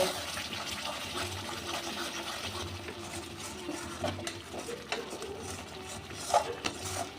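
A spice masala of Kashmiri chilli powder, turmeric and salt stir-fries in oil for a chicken curry cooked with milk. It gives a low, steady hiss with faint stirring scrapes throughout.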